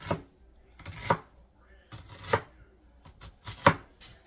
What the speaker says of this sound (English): Now these I'm going to cut in smaller pieces because most people don't like a great big chunk of onions